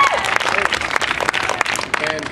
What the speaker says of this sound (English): one clap. That's what's up.